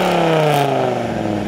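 Naturally aspirated Dodge Viper V10 revving in a forest setting, a loud, sustained engine roar with rising and falling harmonic tones, close and overdriven, with no talking.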